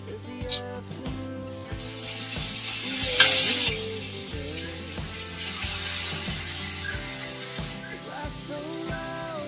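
Fish sizzles steadily in a hot pan on a home stove, a continuous moderate hiss with a faint tonal hum running underneath.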